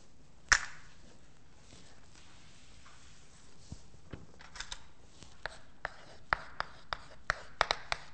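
Chalk or marker tapping and scratching on a board during a university mathematics lecture, a loud tap near the start, then a run of short, sharp clicks and strokes in a quiet room.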